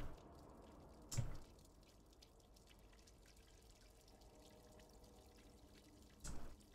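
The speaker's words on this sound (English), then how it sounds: "This might just be dripping water." Water drips in the video game Stray, a quiet, steady trickle running under faint ambience, with two louder splashy drops near the start and end.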